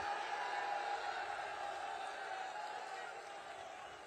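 Large crowd at an election rally in Prayagraj roaring steadily, a dense wash of clapping and cheering that holds for the full span and eases slightly toward the end.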